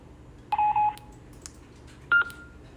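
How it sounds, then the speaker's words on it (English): A JIMMIL walkie-talkie speaker sounds its built-in prompt tones: two short, clear electronic beeps about a second and a half apart, close and loud against a quiet background. "JIMMIL speakers feature built-in prompt tones"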